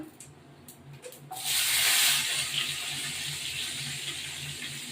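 Water poured from a tap or jug into a pan of mustard while cooking a rohu fish dish, starting as a soft trickle then swelling into a steady close hiss and splash that continues to the end, with no talk.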